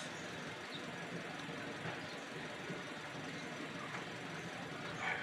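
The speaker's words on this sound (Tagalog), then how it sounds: "Pag umugong na yung motor, ibig sabihin ay gumana na ang kanyang fan motor." Radiator fan motor on a 2023 Toyota Vios running as its cooling fan kicks in: a steady, low, even hum with a constant airy whoosh, continuous and unchanging throughout.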